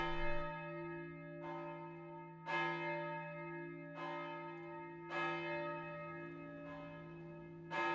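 A church Sanctus bell rings about six times at a slow, regular pace, each strike ringing out and decaying into the next.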